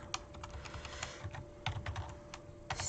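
Quiet, rapid typing on a computer keyboard while code is edited, with irregular clicks and brief pauses over a faint steady hum.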